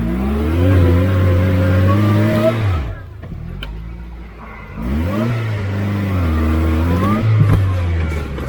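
Engine of a homemade 4x4 buggy revs hard in two long pulls with rising and falling pitch, close and loud, and briefly dips between them. A voice can be heard over the engine noise.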